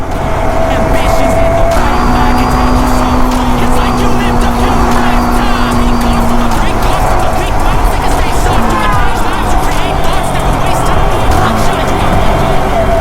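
A Yamaha V3 motorcycle rev-matches on downshifts, its engine rising and falling with sharp throttle blips over a steady running note, loud and close.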